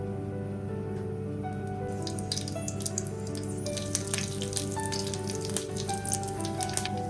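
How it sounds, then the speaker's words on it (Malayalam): Mustard seeds frying in hot oil in a pan for Kerala-style beetroot thoran, crackling and popping in irregular sharp bursts that grow busier over a low steady background hum. "നമുക്ക് തോരൻ തയ്യാറാക്കാനായിട്ട് കടുക് വറുത്തെടുക്കാം."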